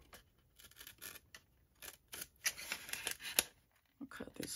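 Scissors snip through paper in a series of quick, close cuts with short pauses between them, crisp and fairly quiet.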